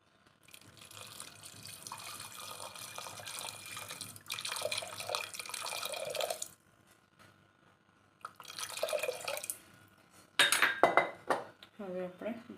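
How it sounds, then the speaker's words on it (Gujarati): Water poured into a pot of spiced tuvar dal with red chilli, turmeric and salt, giving running splashes and clinks of the pot in several bursts, with brief pauses between pours. "હવે આપણે પાણી એડ કરી દઈએ."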